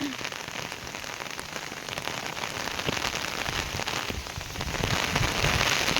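Steady rain pours down onto a surface, a dense, continuous patter that grows slightly heavier toward the end.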